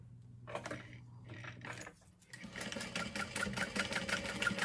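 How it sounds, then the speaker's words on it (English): A sewing machine top stitches through vinyl on a handbag, its needle running in a rapid, even mechanical rhythm after a few short starts and stops, close and clear with no talking. "So we're going to top stitch through here on the vinyl."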